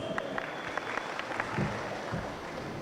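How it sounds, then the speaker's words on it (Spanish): Crowd applause at a children's girls' basketball game, scattered and fairly distant, with individual claps poking through a diffuse background din and no one speaking. "A ver, más fuerte los aplausos."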